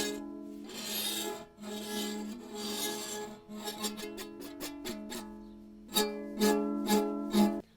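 Butcher's twine bowed across a metal square without rosin produces a raspy, tonal squeal in long strokes, then a run of short, quick scraping bursts.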